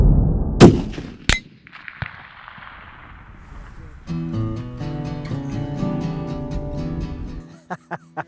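Rifle shot fired at a 12 by 12 steel plate 489 yards away, a sharp loud crack followed by a ringing metallic tone and later small clicks and taps.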